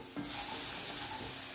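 Spice masala of cumin and turmeric powder is stirred in a hot pan and sizzles steadily and close. The hiss swells briefly as the stirring begins, and there is no talk.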